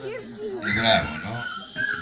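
Dogs at a circus show whimper and yip in short bursts at moderate distance, mixed with people talking and an excited, busy crowd atmosphere.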